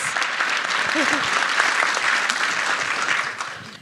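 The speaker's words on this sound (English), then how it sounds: "I think that deserves a round of applause." Audience applause fills a panel discussion hall, dense and steady for nearly four seconds before tapering slightly at the end, with a brief voice cutting through near the start.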